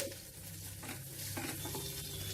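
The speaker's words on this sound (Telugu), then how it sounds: "ఒక్క చిటికెడు ఇంగువ హై ఫ్లేమ్ పెట్టకుండా మీడియం ఫ్లేమ్లో ఒక్క నిమిషం ఫ్రై చేసుకోవాలి ఈ వెల్లుల్లి" Garlic frying with a pinch of asafoetida in a pan over a medium flame, heard as a faint, steady low sizzle with light stirring and no talking.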